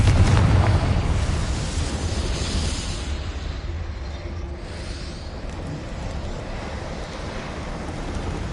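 A Confringo fire spell bursts in Hogwarts Legacy with a loud, close, booming blast at the start that rolls into a long, rumbling, windy decay and fades slowly.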